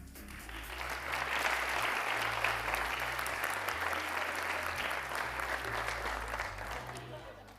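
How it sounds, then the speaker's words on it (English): An audience in a hall applauds steadily for several seconds at an archery World Cup draw show, a dense, even wash of clapping with a faint crowd murmur beneath. "please give a huge round of applause of your compound Men's Elite 8."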